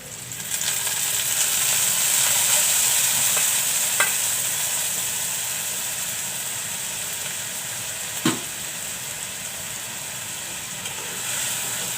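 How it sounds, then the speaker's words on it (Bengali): Spices sauté in a pan with a loud, steady sizzle and hiss that eases off slightly, broken by a couple of brief knocks from stirring. "মশলাগুলো একটু কষিয়ে নেব।"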